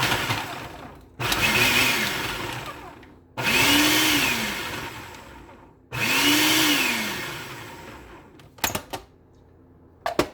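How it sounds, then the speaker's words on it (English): A food processor whirs in three loud bursts of several seconds each, blending jalapenos down small, with short gaps between pulses and a few clicks and knocks at the end. "I'm just going to put mine in the food processor because I just want to blend them down pretty small"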